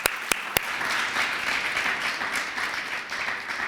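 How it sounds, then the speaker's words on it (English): An audience applauds at a memorial celebration of a life and legacy. A few sharp, close claps come first, then moderately soft, sustained clapping from the room continues evenly to the end. "Let's give her another round of applause."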